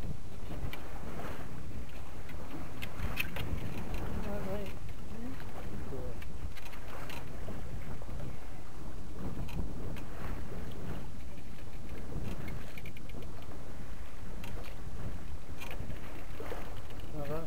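Waves lap and slosh against a sailboat's hull at sea, a constant close wash with wind buffeting the microphone, while people chat intermittently over it.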